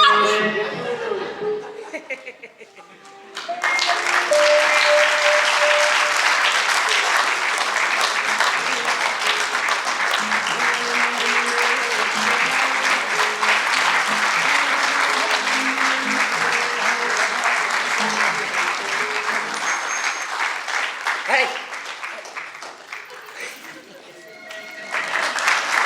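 Audience applause at a live stage show, loud and sustained from about three seconds to the end, with scattered chuckles mixed in.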